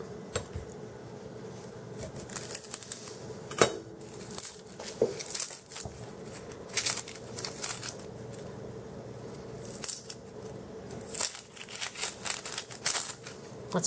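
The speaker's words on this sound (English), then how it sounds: "I'll chop these up a little bit bigger" A knife chops butter on a cutting board during microwave mac and cheese prep, giving a run of quiet, close tapping cuts in irregular bursts with brief pauses between them.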